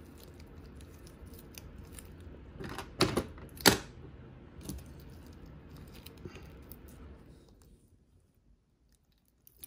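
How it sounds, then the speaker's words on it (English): Clamps snap onto both ends of stacked microscope slides holding a large whole-mounted spider in mounting medium, giving two sharp, close clicks a moment apart over a low steady background hum. "I'm going to put a clamp on either end"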